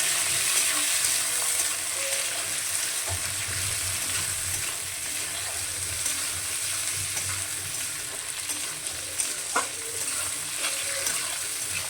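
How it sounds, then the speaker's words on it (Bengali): Tomatoes and potatoes frying together in a pan as they are stirred, a steady crackling sizzle with scraping and stirring movements, close and moderately quiet, with a brief clink near the end and no voices. "এখন এর মধ্যে টমাটার দিয়ে দেবো কটা, এগুলো একটু লাড়াচাড়া করে ভেজে নেবো এর সঙ্গে"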